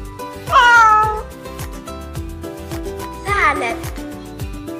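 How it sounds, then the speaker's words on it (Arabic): Two distinct cat meows, loud and near, separated by a pause, heard over light background music with a steady beat. "قطة،"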